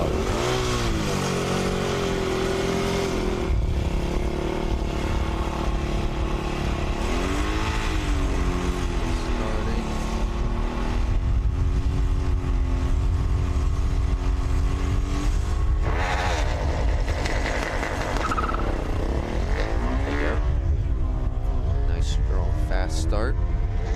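A Virginia Tech Formula SAE race car runs an autocross course, its engine revving hard and rising and falling continuously through gear changes and corners, loud and close, with voices talking over it.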